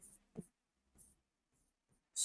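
Chalk or a marker scratches out an example on a classroom board in short separate bursts of scraping strokes with brief pauses between them, close and fairly quiet.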